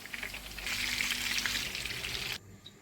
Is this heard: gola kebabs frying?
yes